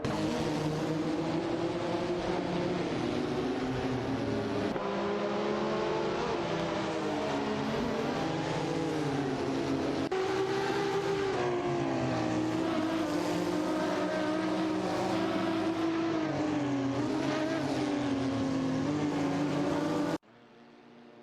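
AI-driven race cars in a racing video game roar past in a continuous loud engine drone, pitch rising and falling as gears shift, ending abruptly, with no talk.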